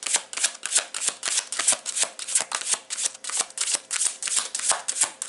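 Tarot cards are riffled and shuffled in a quick, steady run of crisp, close flutters and snaps, with no talking.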